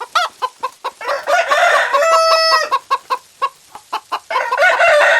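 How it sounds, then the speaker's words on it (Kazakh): A chicken clucking in quick, loud, close bursts, broken by one longer drawn-out crowing call in the middle before the rapid clucks resume. "Тауық."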